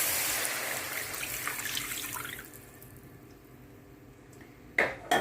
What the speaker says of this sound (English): to this we're going to add some cold milk